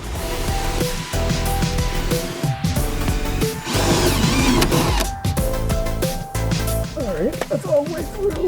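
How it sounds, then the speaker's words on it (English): A power drill whirs and grinds in several bursts while drilling holes in metal for a transmission mount on a Lexus SC400, pausing between runs, with a nearby voice talking intermittently over the mechanical whine. "Last thing I need to do is drill two more holes here and one this side"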